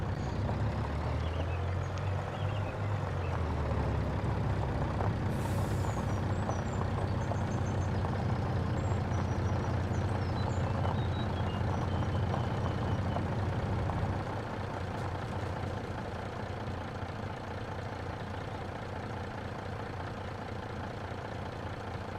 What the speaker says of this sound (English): we're gonna play hell getting in here with a damn logging truck